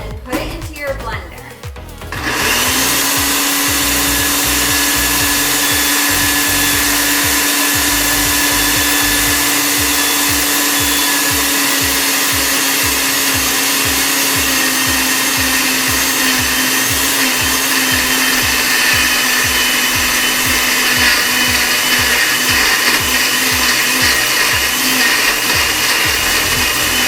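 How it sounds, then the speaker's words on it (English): Blender whirring at high speed through an apple smoothie with oat milk, banana and ice. It starts after a few seconds of rattling, then holds a loud, steady drone for the rest of the time. "and then put it into your blender."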